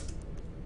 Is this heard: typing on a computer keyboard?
yes